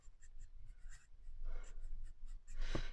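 A chunky pencil scratching on paper while writing in a junk journal, soft rhythmic strokes close up with a louder scrape near the end.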